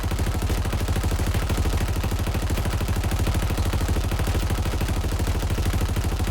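A mounted turret in the shooter game Halo Infinite fires continuously, a dense, steady stream of rapid shots at constant loudness for several seconds before stopping abruptly.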